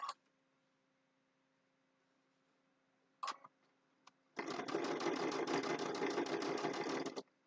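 A sewing machine fitted with a twin needle runs in one steady, loud burst of about three seconds as it stitches fabric for bookmarks, after a few brief clicks and handling taps.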